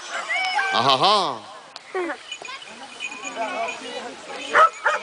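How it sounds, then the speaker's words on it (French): A firefighters' search dog barks a few times to signal a find, with short yips and whines, close by, over background talk. "l'aboiement c'est pour signaler à son maître qu'il a trouvé quelque chose"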